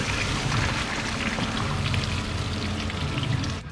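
Fluid drains out of an engine during a motor build, a continuous splashing pour and trickle that runs steadily, close by, until it tapers at the end.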